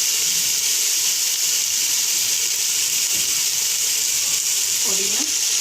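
Coriander and mint leaves sizzle in a pan of prawn biryani, a steady close hiss running throughout, with a faint voice briefly heard near the end.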